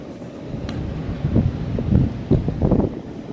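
Steady wind buffeting a microphone on a breezy Minnesota day, with low rumbling gusts that swell and fade over a few seconds outdoors.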